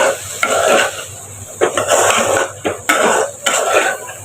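A spoon scrapes and knocks against a cooking pot while ginger and garlic paste is stirred in, with a soft sizzle underneath and several sharp metallic clinks spaced irregularly across the clip.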